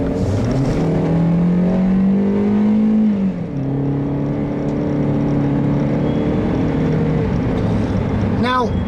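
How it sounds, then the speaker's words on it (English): A 2013 Chevrolet Spark's 84-horsepower engine accelerates, its drone climbing in pitch, dipping briefly as the four-speed automatic changes gear, then holding a steady hum, with a short rattle at the end. "with only 84 horsepower on tap, this thing doesn't accelerate very well"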